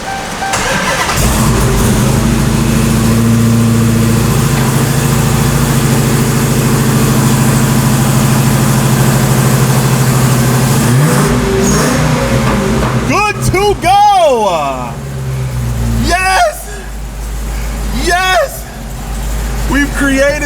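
A Dodge Hellcat V8 with its supercharger removed, running naturally aspirated, rumbles loudly at idle, then revs up in several sharp swells and drops back near the end, close and dominant throughout.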